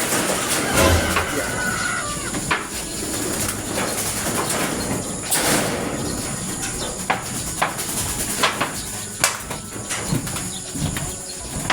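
Racing pigeons coo repeatedly in a loft, with low throaty calls and scattered clicks and fluttering sounds over a steady background of ambient noise, while faint voices talk nearby.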